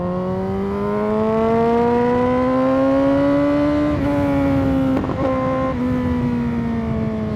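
A motorcycle engine with an aftermarket exhaust climbs steadily in pitch as it accelerates onto a highway on light throttle, with brief dips at gear changes, loud and close amid road and wind noise.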